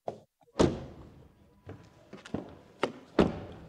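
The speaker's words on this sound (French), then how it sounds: "Quant au son de fermeture des portes, il est assez caractéristique" Car doors on a 2026 Nissan Micra shutting, several solid thunks spaced a second or so apart, close and clear in a quiet space with no talking.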